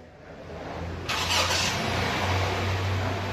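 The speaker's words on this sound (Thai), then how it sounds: "สตาร์ทรถครับ" Honda Jazz engine cranking and catching at about one second, settling into a steady idle hum that continues to the end, close by and moderately loud, with no talking.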